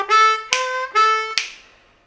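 A harmonica in D plays a variation on a riff: four sustained reedy notes in a steady pulse, each with a breathy attack, the last note fading away.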